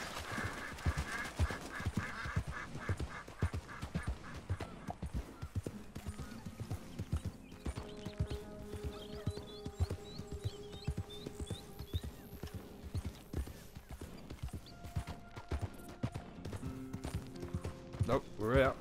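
Steady clip-clop of horse hooves trotting close by in Red Dead Redemption 2, with game music and effects layered over the rhythmic beat throughout.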